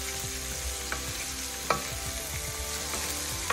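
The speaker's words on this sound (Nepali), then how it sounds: "हामी केही बेरसम्म यसरी नै भुट्छौँ" Potatoes with chopped garlic fry in a pan for a mushroom potato curry, giving a steady, fairly soft sizzle broken by a few stirring scrapes and clinks, with no one speaking.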